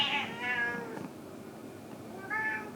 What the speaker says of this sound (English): I've never heard a cat that sounds like that.